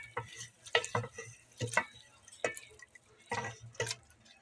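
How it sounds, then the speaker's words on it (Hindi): A spoon scrapes and stirs through warm chickpea curry as fresh mint is mixed in, giving short, soft, wet stirring strokes in an irregular rhythm, close and fairly quiet. "अब हम इसमें पुदीना मिक्स कर देंगे।"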